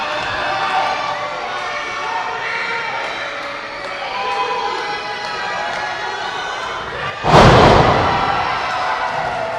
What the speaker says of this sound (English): Keith just planted Davis into the mat. That was the big thud that you heard